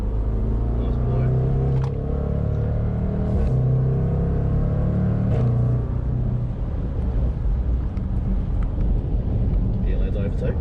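A Jaguar car accelerates on a track at a driving event, its engine note a steady droning hum from inside the cabin that swells slightly as the throttle is squeezed, with people talking over it.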